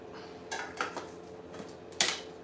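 A small camping cooking pot and frying pan handled together, producing a few light metallic clinks and clatters at irregular intervals, close and fairly quiet with no talking.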